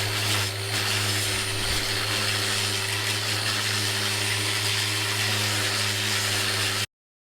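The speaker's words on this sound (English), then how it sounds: "I'm going to use the bigger sander on that slight angle" A power sander shaping the trailing edge of a hydrofoil front wing whirs continuously at close range, a steady high-pitched grinding drone that cuts off abruptly at the end.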